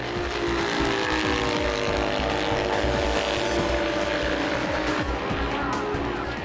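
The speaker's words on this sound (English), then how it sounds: "The Norton Dominator was no match for the big Kawasaki, and as the last lap board came out, it was Cooney on the front." Classic motorcycles racing, a Norton Dominator against a big Kawasaki, at the Barry Sheene Classic 2014 in New Zealand: a loud, continuous engine roar with shifting, whining harmonics as the bikes rev and hold speed.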